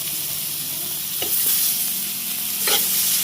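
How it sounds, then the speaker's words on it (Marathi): Thin round slices of bitter gourd sauté in spices in a pan, a continuous close sizzle broken by two distinct scraping stirs partway through, with no voices. "मस्त असं मसाल्यामध्ये परतून घ्यायचं."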